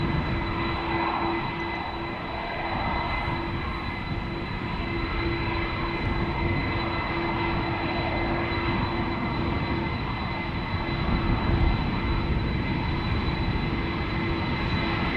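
Steady, loud jet engine roar of an Airbus A321neo preparing for departure at Amsterdam Schiphol Airport, a broad sustained rumble with a faint whine and slowly swelling intensity, heard from outside with no speech.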